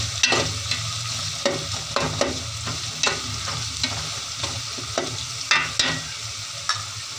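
Masala for bhindi gosht fries and browns in a pan, a steady sizzle broken by repeated scraping strokes of a stirring spoon, close and fairly loud, with no voices.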